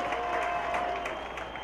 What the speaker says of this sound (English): Crowd starting to make some noise here at the University of Phoenix, or better known as Cardinal Stadium.